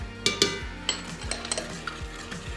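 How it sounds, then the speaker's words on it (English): A spoon stirs cream, vanilla and salt into caramel sauce in a pan, with repeated close scraping strokes, light clinks and a soft bubbling sizzle underneath. "I'm just gonna stir this until it is all combined."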